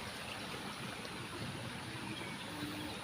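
Floodwater from Typhoon Enteng close to overflowing, a faint, continuous rushing and gurgling of moving water with no break.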